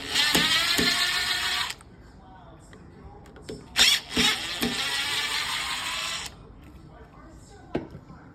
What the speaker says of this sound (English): remove these 2 screws on your deadbolt lock